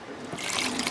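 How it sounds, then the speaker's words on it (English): One cup of cooking oil pours into a cake mix in a kitchen, a brief soft trickling stream that swells over about a second, heard alone. "To that I am adding 1 cup of oil"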